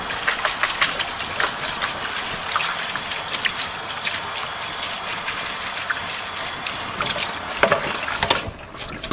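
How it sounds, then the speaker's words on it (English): Water from a sink tap runs in a steady trickling stream while something is rinsed, close by and fairly soft, with no voices. "Actually just give this a quick rinse in the sink too."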